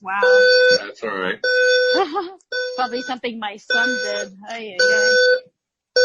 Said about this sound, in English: Sorry for the beeping. I'm not sure what that is,